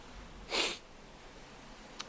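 A single quick sneeze bursts out against a quiet background, followed by a faint tiny click.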